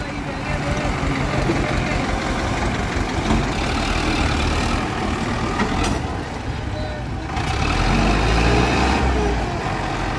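A tractor engine idles loudly and steadily with a low rumble while the tractor sits stuck on a slope, pulling a trolley. People talk over it throughout.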